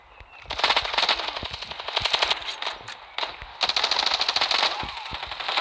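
Rapid automatic gunfire from the mobile shooter Standoff 2, dense bursts of shots rattling almost continuously with a short gap midway, loud and close.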